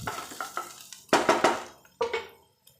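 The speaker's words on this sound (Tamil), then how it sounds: "வெங்காயம் நல்லா வணங்க விடுங்க. கருவேப்பிலை சேர்த்துக்கலாம்." Onions sautéing in oil with curry leaves, a few bursts of spoon scraping and stirring over a soft sizzle, with louder clattering strokes midway and near the end.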